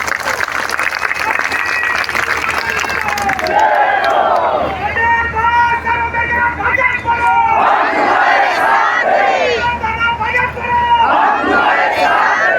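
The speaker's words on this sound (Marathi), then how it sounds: "आपल्या सर्वांसाठी एकदा जोरदार टाळ्यांचा हात होता" A large crowd at a protest march led by a youth leader claps and shouts in a loud, sustained roar, with rhythmic chanting voices rising and falling over the din.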